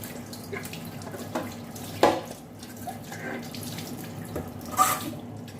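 Tap water runs steadily over a scrubbed cooking pot as it is rinsed, a close, even splashing with a few louder clanks and splashes as the pot shifts under the stream.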